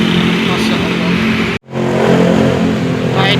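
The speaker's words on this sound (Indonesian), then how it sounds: "ini ada di depan aku ada bus Royal Trans ya" A Royal Trans bus at the TransJakarta Pasar Rumput stop, its engine a steady loud rumble up close, a brief gap midway, then the engine noise resumes continuously.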